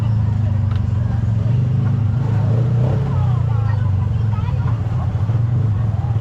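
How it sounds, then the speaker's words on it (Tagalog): Steady low rumble of road traffic in a congested market street, idling and slowly moving vehicles with faint crowd noise, while people talk nearby. "Naku, ang traffic."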